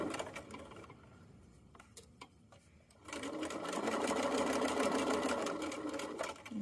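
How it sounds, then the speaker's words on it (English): A sewing machine stitches the bottom seam of a fanny pack, a few isolated needle thumps first, then a steady, fast mechanical whir of continuous stitching close by for several seconds. "I'm sewing towards the end of my bag."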